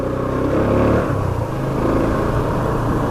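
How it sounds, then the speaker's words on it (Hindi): A motorcycle engine runs steadily just after being started, a close mid-pitched rumble with a slight swell of revving early on, no talking over it. "तो सबसे पहले मैंने बाइक को स्टार्ट कर लिया"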